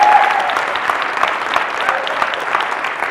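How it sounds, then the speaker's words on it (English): Audience applause at a college convocation assembly, dense sustained clapping from a large crowd, loud and steady throughout with no talking over it. "Give these people a round of applause right now."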